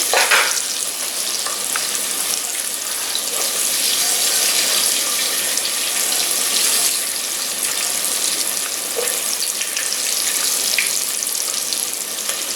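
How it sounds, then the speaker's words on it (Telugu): Onions roasting in a clay pot give off a steady, loud sizzle and frying hiss with occasional stirring and scraping. The sound runs continuously and close, with no talking. "ఇప్పుడు ఆనియన్స్ వేయాలి. అవి కొంచెం రోస్ట్ అయిపోయినాయి."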